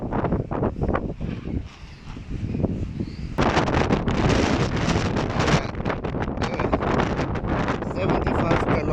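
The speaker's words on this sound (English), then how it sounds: "75 kilometers per hour wind." Strong storm wind of about 75 km/h at Lüderitz, carrying dust and sand, roars and buffets the microphone in loud, continuous gusts that grow heavier halfway through.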